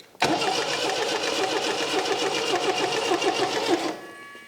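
A forgotten 1979 MG with its belt off, float bowl freshly filled, cranks on the starter in a fast, rhythmic, close churning that runs steadily for nearly four seconds without catching, then stops.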